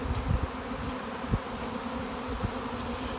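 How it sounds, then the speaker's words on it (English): A honeybee swarm pours out of a Saskatraz hive outdoors, a dense steady buzzing drone of countless bees filling the air up close, with no voices. "Bees are still pouring out of that hive."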